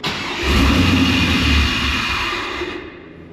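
The engine of a Pontiac Trans Am WS6 with a fault, fitted with a new MAF sensor, revs up loud and close, then sags, sputters and dies out within about three seconds.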